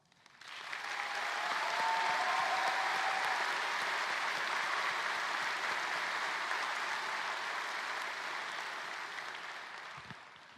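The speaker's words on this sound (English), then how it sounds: "everyone else please join me in a round of applause for them" A large high school graduation audience bursts into applause that swells quickly, holds as a broad steady roar of clapping, then tapers off near the end with a few faint cheers.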